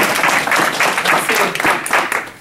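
Loud, close applause from a crowd at a team opportunity meeting in Brandon, Missouri, dense clapping in uneven surges with a brief voice amid it.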